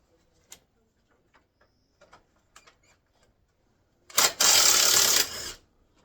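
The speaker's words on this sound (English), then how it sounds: "This is the bolts here I'm taking out for the AC condenser where it connects to the rad support bracket" Bolts come out of an AC condenser on a radiator support bracket of a Chevy Tracker. Scattered faint ticks and clicks are followed by a loud burst of a ratcheting tool lasting just over a second.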